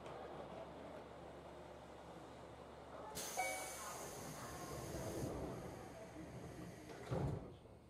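A 103 series electric train runs at night on the Karatsu to Chikuzen-Maebaru line, heard from inside as a continuous low rumble. A sudden brighter burst, like a door or passing noise, comes midway, and a faint voice sits underneath.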